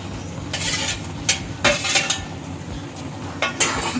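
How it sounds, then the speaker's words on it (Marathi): Okra (bhindi) being stirred in a pan for dahi bhindi, with scraping spoon-on-metal strokes and light clinks coming in irregular bursts over a faint sizzle, close and moderately loud. "बघा, चांगलं हलवून घेऊया."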